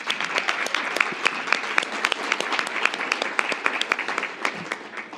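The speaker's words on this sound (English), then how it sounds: "give yourselves a round of applause" A crowd applauds steadily, many hands clapping at once with a few sharper claps standing out, continuing for several seconds.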